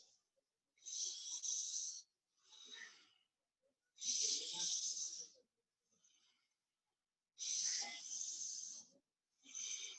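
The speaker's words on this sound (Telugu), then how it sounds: "దీర్ఘ శ్వాస తీసుకుంటా, దీర్ఘ శ్వాస వదిలేస్తా." Forceful bhastrika pranayama breathing during a yoga class: four loud, rough bursts of rapid nasal breath separated by brief pauses, close and without any talk.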